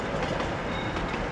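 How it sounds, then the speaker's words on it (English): A runaway train runs on the rails with a steady, dense rumble and a faint clickety-clack, loud and continuous with no voices. "I must catch up with the runaway train."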